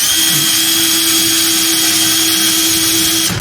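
A power drill runs steadily at a high whine while driving screws into wood for a ramp launcher build, one continuous sustained burst that cuts off abruptly at the end.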